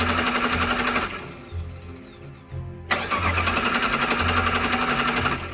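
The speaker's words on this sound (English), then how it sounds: "It just kept cranking." Jeep Wrangler TJ engine cranking without catching, with a low-fuel gas tank: two long stretches of rhythmic, whirring starter churn separated by a quieter pause, loud and close, no ignition and no talking.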